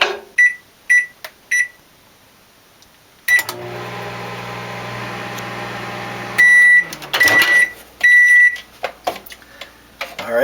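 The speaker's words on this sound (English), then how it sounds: "Stick it in the microwave." A microwave oven heating a single layer of potato slices on a plate: keypad beeps, then a steady low hum for several seconds, followed by a clunk and a series of completion beeps.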